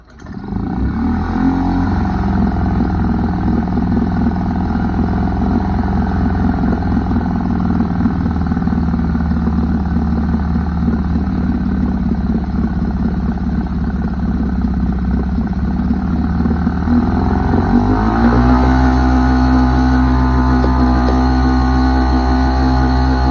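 An old four-stroke small engine, freshly repaired after a leaking fuel pump, carburetor and spark plug, runs loud and steady throughout, its idle rising and settling into a heavier note near the end, with no talk.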